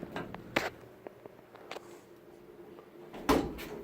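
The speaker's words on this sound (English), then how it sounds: "And then this door opens back out" A door in a vintage hospital railroad car is opened, giving a few quiet clicks and light knocks followed by a louder latch thump near the end, in a quiet interior.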